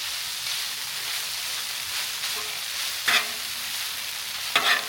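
Ramen noodles sizzle on a griddle in melted butter and minced garlic, a steady close frying hiss with a couple of brief stirring scrapes near the end.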